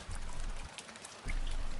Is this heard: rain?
yes